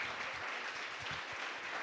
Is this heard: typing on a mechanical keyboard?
no